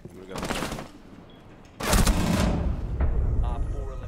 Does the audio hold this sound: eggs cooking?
no